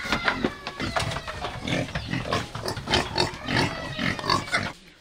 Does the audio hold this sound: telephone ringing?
no